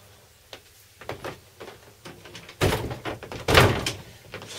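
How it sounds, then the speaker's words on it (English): A door is pushed shut in a workshop during small IC removal, giving two fairly close, dull thuds about a second apart over low background rumble and faint ticking. "I'm just going to shut the door here."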